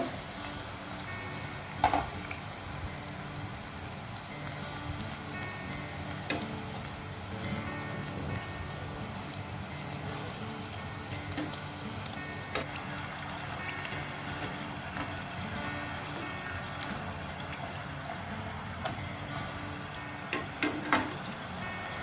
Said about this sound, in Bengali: একটা পাশ উল্টে ভেজে নেব।